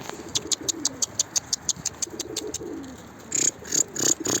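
An Akbash pigeon, a female, cooing in low, soft phrases, with a steady series of sharp high clicks or taps running alongside and a busier burst near the end.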